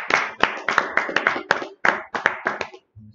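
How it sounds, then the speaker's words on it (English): A group claps hands in a steady, slightly uneven rhythm of about a dozen sharp, close claps at a Minneapolis Wednesday class, ending abruptly. "Alright, clap it up."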